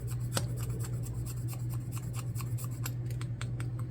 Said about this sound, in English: So I've just kind of been scraping off